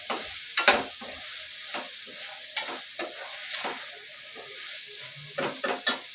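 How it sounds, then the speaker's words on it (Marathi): Vegetables with salt being sautéed in a pan for soybean biryani give a steady sizzle, broken by sharp scraping stirs of a spoon against the pan that come at irregular intervals. "मीठ चांगलं परतून घ्यायचं"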